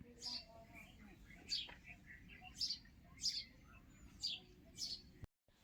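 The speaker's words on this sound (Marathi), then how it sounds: "आणि हो चिमण्यांचा किलबिलाट पक्ष्यांचा किलबिलाट" Sparrows and other small birds chirp in short, bright bursts at dawn, six or so calls spaced every second, over a quiet, faint village outdoor background.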